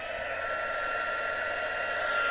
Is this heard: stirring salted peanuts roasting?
no